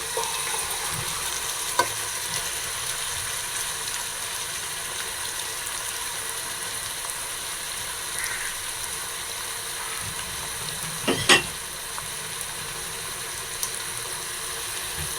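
Marinated chicken pieces fry with potatoes in a pan, giving an even, continuous sizzle that stays close and steady, with a brief clatter of stirring near the end and no voices.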